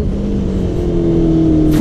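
A Honda CBR650F motorcycle accelerates hard out of a corner, its engine note climbing steadily and loudly close up, with wind rush near the end.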